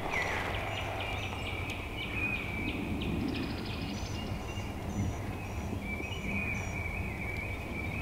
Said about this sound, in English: That's a good gobble.